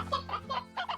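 Hens in the game Slime Rancher give several quick, close clucks in short bursts over a steady low hum, with no talk.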